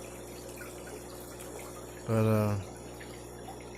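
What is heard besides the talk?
aquarium filter running water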